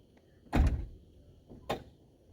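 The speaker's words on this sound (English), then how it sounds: "I'm going to open the door." The door of a 1988-91 Ford Crown Victoria LX wagon opens with a near latch clunk, followed a second later by a sharper, quieter click.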